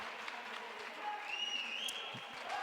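Esports arena crowd at a Gamers8 2022 match cheering and applauding, a broad steady roar of many voices throughout with commentary-like voices mixed in.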